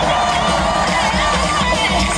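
A dense stadium crowd shouts and cheers continuously at a Hanwha Eagles cheerleading show, a loud, sustained roar of massed voices with children shouting in the mix.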